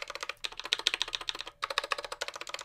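Rapid tapping on a Ducky One 3 TKL mechanical keyboard with barely lubed, loose stabilizers, a dense close clatter of keystrokes with a brief pause midway.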